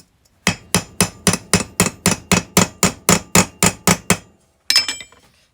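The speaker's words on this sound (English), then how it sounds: "No, this isn't an automotive hammer," Hammer striking a rusty part to knock out a dent, a loud, evenly spaced run of about fourteen sharp metallic blows, then a short pause and one final hit.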